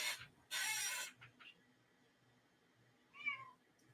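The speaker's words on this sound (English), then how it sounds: "Cat." A cat meows twice, a loud drawn-out cry near the start and a shorter rising mew near the end, close to the listener with faint rustling between.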